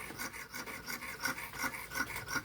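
A rubber-tapping knife with a high-set blade is sharpened in quick, rhythmic rasping strokes, about a dozen close scraping passes, fairly soft and with no voices.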